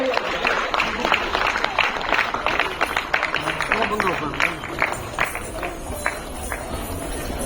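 An award ceremony audience claps steadily, a dense patter of many hands that carries on at moderate volume beneath an announcer's voice.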